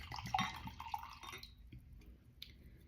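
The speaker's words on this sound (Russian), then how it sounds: "наливаю" Wine is poured from a freshly opened bottle into a crystal glass, a close, soft gurgling trickle lasting about a second and a half, followed by a quiet pause and a faint glassy clink.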